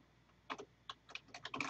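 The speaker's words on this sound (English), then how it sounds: "Using a keyboard, just enter the date." Computer keyboard typing while entering a date into a spreadsheet: a few separate keystrokes, then a quicker cluster of clicks near the end, close and fairly quiet, with no voices.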